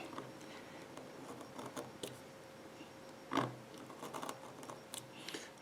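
Knife drawn through leather while cutting out snowshoe strap holes, heard as quiet close scraping and slicing strokes with one sharper cut partway through.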